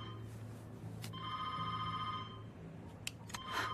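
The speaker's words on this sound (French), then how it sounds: "Répondez au téléphone" A telephone rings indoors with a bright electronic warble in two bursts, moderately loud over a low background hum, with no speech.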